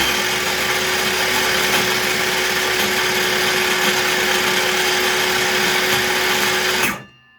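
A DeWalt circular saw runs at full speed, spinning freely with a loud, steady whine for about seven seconds before abruptly cutting off into silence.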